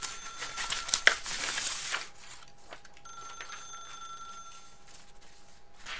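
Telephone ringing in The Stanley Parable: a bright bell-like ring bursts out in the first two seconds, then a steadier, quieter electronic ringing tone continues through the rest of the stretch with no talk.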